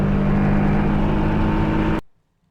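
Praga Bohema hypercar accelerating hard with hard gear shifts: a loud, continuous engine roar for about two seconds, then an abrupt cut to near silence.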